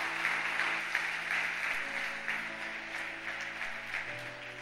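Steady applause from a church congregation, a dense wash of clapping that holds evenly throughout, fairly close.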